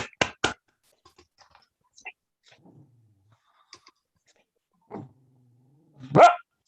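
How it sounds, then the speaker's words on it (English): At a pipe and tabor music gathering, a dog gives a couple of quick sharp barks, falls mostly quiet with faint small noises, then lets out one louder, closer bark near the end. "that's the dog saying well done."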